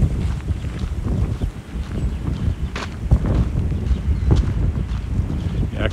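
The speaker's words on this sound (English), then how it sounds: "I can feel the wind up here" Outdoor wind buffets the microphone in uneven, rumbling gusts during a walk along a creek, with faint rustling and occasional knocks, and no talking.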